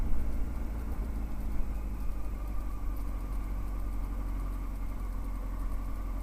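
A Honda Hornet 900 motorcycle engine idles fast and steady, a continuous rough mechanical hum with light ticking, with no talking.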